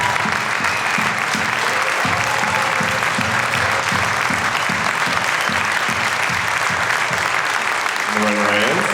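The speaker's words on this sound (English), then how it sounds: "join me and Harry in just the biggest round of applause for the legacy of" An awards ceremony audience gives a long, loud ovation of sustained clapping, with a rhythmic musical beat underneath and a few voices near the end.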